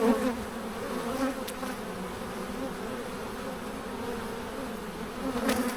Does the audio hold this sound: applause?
no